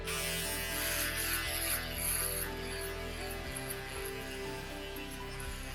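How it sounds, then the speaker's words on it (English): Electric shaver buzzing steadily up close while shaving curly hair down to the skin during a high fade haircut, a continuous mechanical hum with slight shifts in pitch as it moves back and forth. "Using my shaver now just to make sure we go down to the skin"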